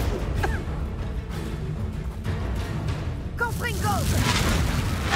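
Spells cast in a Hogwarts Legacy duel, with repeated booming blasts and whooshing bursts under a voice shouting incantations, the impacts getting denser and louder toward the end.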